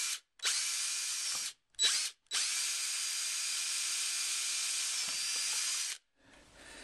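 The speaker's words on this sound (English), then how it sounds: "That way when I put my drill on it, I'm going to be able to drill down at a straight level" A power drill fitted with a 1/4 inch bit bores into a camera car mount, whining close and loud in two short bursts followed by one long sustained run of about four seconds, then stopping.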